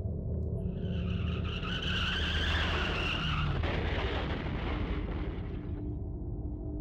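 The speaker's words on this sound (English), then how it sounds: "Another car accident, again right outside my door." A car crash sound effect in the horror game Corpse Party: Blood Drive, with a long tire skid swelling into a crunching impact and fading rumble, moderately loud and heard alone.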